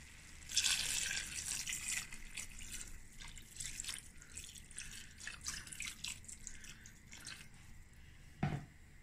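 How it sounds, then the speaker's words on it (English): Water is poured into a pan of chicken curry, making a quiet trickling, splashing run of sound with scattered drips and a short knock near the end. "Now I'm going to add a little water."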